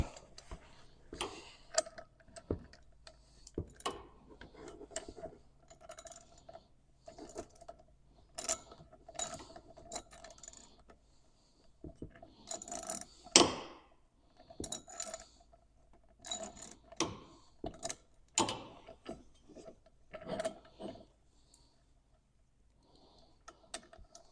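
Screws are driven by hand into a Seizmik mirror mount on a Segway handhold, producing irregular small clicks, ticks and metallic taps close by.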